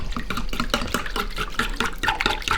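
Cold water splashes and pours into a bowl of stuffing mix for wild duck, a close, steady watery rush with small bursts of splashing throughout.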